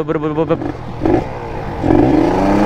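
A motorcycle engine with a KX carburetor tuned wet revs up in short bursts close by, rising to a sustained higher roar toward the end, with someone talking over the start.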